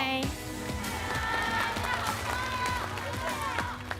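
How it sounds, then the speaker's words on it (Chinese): Audience at a rap competition stage show applauding and cheering for a rapper, a dense continuous wash of clapping and crowd noise with music or voices faintly mixed in. "掌声送给娃娃"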